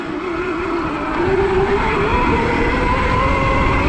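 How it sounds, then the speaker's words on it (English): A Zero electric dirt bike powered by an 80V lawnmower battery runs at full throttle while circling open land, giving a loud, steady motor whine that rises slightly in pitch and holds without letting off. "full throttle, not gonna let off, and I'm just gonna try to do circles around the open land"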